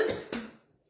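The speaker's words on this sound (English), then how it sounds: "I've been coughing all day" A person coughs twice in quick succession, a harsh burst followed by a second fit after a short pause, close up and fairly loud, then fading into quiet.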